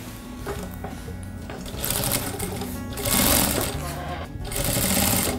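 A sewing machine stitches a slipper sole made of layered leather, felt and denim, its whirring motor running in uneven bursts that grow louder toward the end, with a voice talking over it.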